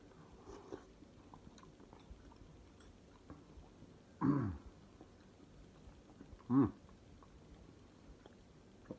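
Chewing on a mouthful of pinto beans seasoned with cayenne, with two short, close bursts of soft mashing bites standing out against a low background hum.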